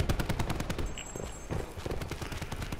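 Rapid automatic gunfire in Call of Duty: Black Ops 4 multiplayer, dense repeating shots crackling close and loud through the whole stretch, with a few lighter footstep-like taps between bursts.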